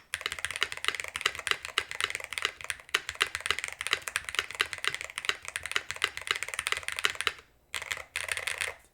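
Rapid, steady typing on a DrunkDeer A75 Ultra mechanical keyboard, dense clacky keystrokes running continuously with a brief pause near the end before resuming.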